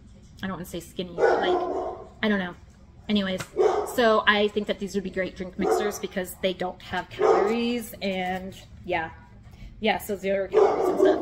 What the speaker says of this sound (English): So I apologize for my dogs.